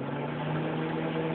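A microwave oven hums steadily with an electrical cord heating inside, a constant mid-pitched drone at close range with no talking.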